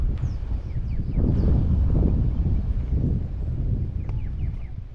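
Wind blows outdoors and buffets the microphone as a low, surging rumble that rises and falls, with faint bird chirps above it and no speech.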